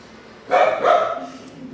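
A single dog gives a close, loud bark followed by a shorter second yelp, then quiet.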